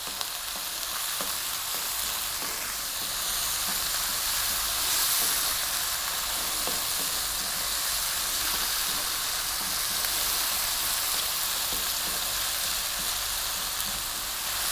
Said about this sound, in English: we're going to cook this, staying on this high heat for another 3 to 4 minutes. Keep it moving pretty much all the time